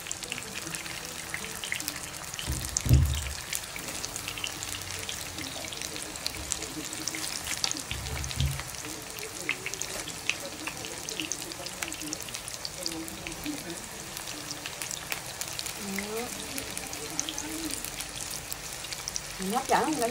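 Continuous sizzle and crackle of large shrimp deep frying in hot oil, with a few low thumps and clatters of handling nearby.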